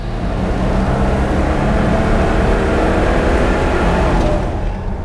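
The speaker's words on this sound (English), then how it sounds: "I'm going to go and take the Bundeera for a drive now that it's all finished" A Bandeirante being driven gives off a steady, loud road roar from its engine and tyres, with the noise holding even from start to end.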